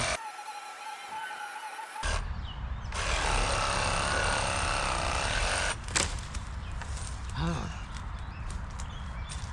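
A loud Craftsman reciprocating saw with a pruning blade buzzes in a steady, rough burst for several seconds cutting a small tree stump near the ground, then cuts out, with a voice speaking briefly around it.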